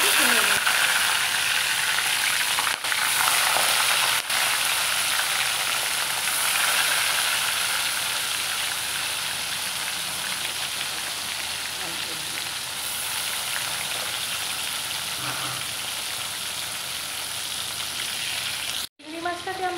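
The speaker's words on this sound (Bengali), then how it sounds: "এবার আমরা তেলের মধ্যে চিংড়ি মাছটাকে ছেড়ে দেব।" Giant freshwater prawns fry in hot mustard oil, giving a loud, steady, dense sizzle that runs nearly unbroken for about twenty seconds, with a brief dropout near the end.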